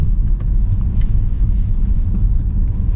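A 2022 Mercedes GLC 300 4MATIC SUV with a 9-speed automatic accelerates, heard from inside as a loud, steady low engine and road rumble without distinct gear changes.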